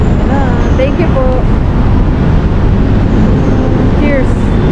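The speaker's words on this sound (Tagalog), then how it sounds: "Puro tunog ng ano, sasakyan." Dense, loud street traffic in Manila, a constant roadway roar with faint tonal squeals, no distinct voices.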